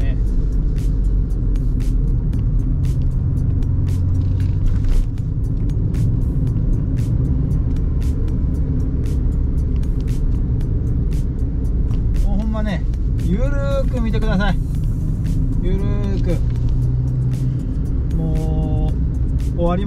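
A Suzuki Alto Turbo RS (HA36S) kei car drives a winding road, its engine and tyre rumble a steady, loud drone throughout, with voices talking over it in the later seconds.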